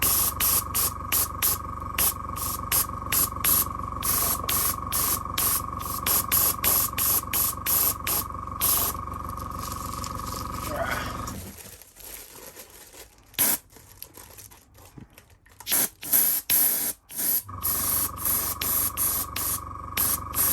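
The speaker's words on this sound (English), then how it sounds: "I'm using a cheap paintbrush, airbrush here." Cheap airbrush spraying a main paint coat on custom Bape-style sneakers, a loud close hiss in rapid pulsing bursts that stops for a few seconds and then resumes.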